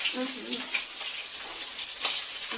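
Fish frying in oil in a home kitchen, a continuous close sizzle with crackling pops and occasional louder spits throughout.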